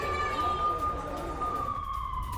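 An air raid siren sounds over Tel Aviv as a steady, loud wail that holds one pitch and then slowly drops toward the end, with crowd noise and background commotion mixed beneath it.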